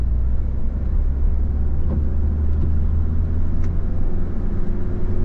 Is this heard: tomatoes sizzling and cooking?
no